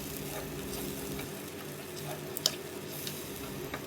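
A soft, steady sizzle and bubbling as tamarind water is stirred into a frying pan of garlic kulambu, with faint stirring scrapes and a small clink, no voices.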